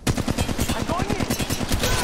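Rapid bursts of automatic gunfire in the mobile shooter Apex Legends Mobile, loud close rattling shots in quick succession with faint in-game voice chatter underneath.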